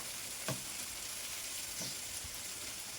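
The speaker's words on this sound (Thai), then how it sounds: "เราจะใส่ใบกะเพราที่หั่น เป็นซอยเล็กๆแบบนี้ลงไปเลยค่ะ" Thinly sliced holy basil leaves hit hot oil with chili and garlic for a homemade kaphrao stir-fry sauce, giving a steady, close sizzle with a couple of soft stirring knocks.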